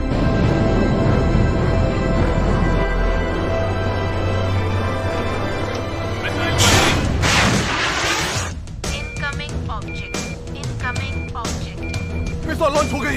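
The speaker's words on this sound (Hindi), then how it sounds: "मिसाइल लॉन्च हो गई है।" A missile launches in the 2007 film Flight of the Living Dead, Hindi dubbed. A loud, sustained roaring rumble swells into a sharp burst midway, then voices and electronic beeps continue over the lingering noise.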